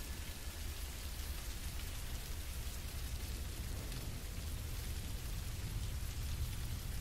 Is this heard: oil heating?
no